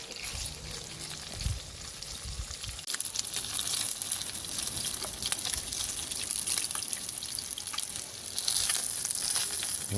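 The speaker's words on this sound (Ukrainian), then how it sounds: "Зараз буду смажити." Steady crackling sizzle of grouper frying in a hot pan, close and continuous, with a brief low clatter near the start and no talking.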